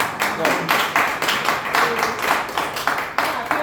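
A short burst of clapping and applause, rhythmic claps fairly close, with speech mixed in underneath.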